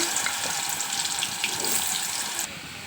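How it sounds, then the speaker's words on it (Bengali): Potatoes frying in hot oil in a kadai, a steady broadband sizzle and crackle that runs continuously and fairly close, easing slightly near the end, with no talking. "এদিকে কড়াতে তেলটা গরম হয়ে গেছে এবার আমি আলুগুলোকে ভেজে নেবো ভালো করে"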